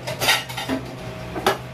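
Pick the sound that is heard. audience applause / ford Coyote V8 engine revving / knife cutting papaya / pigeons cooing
knife cutting papaya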